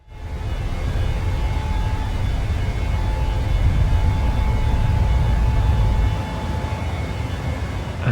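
Engines of a PMDG 737-600 in Microsoft Flight Simulator spool up to full takeoff power, a loud, steady roar that holds for several seconds before it eases slightly near the end.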